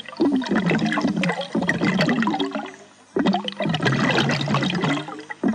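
A burst of air bubbles rises through water to mimic an underwater fart, a gurgling bubbling rush in two loud bursts separated by a brief pause.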